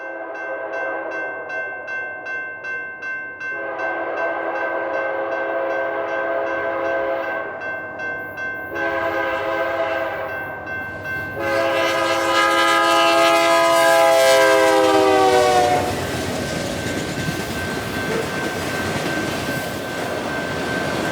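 A BNSF freight train passes in Arizona with a loud, sustained multi-tone horn blowing in several long blasts, then rumbling and rattling rolling noise as the train continues by.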